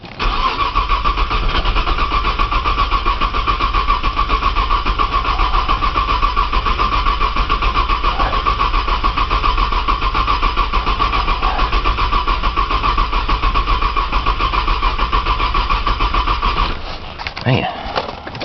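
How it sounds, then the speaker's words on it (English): A car engine cranks over and over on a cold start without firing, a steady loud starter churn running for most of the stretch before stopping abruptly near the end. "it's a long vid of cranking."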